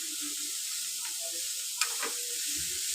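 Onions sautéing in a hot pan for erachi puttu, a steady close sizzle with a couple of brief scrapes or clinks of stirring, continuous throughout with no voices.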